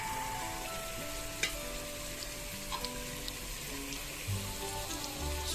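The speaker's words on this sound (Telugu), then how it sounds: "మనం ముందుగా దంచిపెట్టుకున్న అల్లం వెల్లుల్లి కొత్తిమీర ఆ పేస్ట్ వేసేసాను ఎలాగైన తర్వాత ఇప్పుడు చికెన్ వేసేద్దాం" Chicken fries in a pan coated with ginger, garlic and coriander paste for an Andhra biryani, a steady close crackling sizzle with occasional stirring clicks and no talk.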